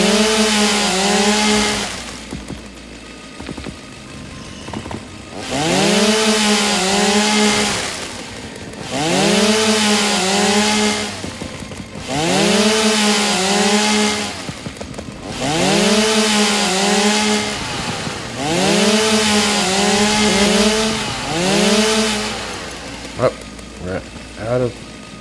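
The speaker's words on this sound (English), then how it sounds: "Can't even put our chainsaw away." Chainsaw from the video game Satisfactory revving in repeated bursts of roughly two to three seconds separated by brief pauses, loud and close, with a steady engine drone between cuts.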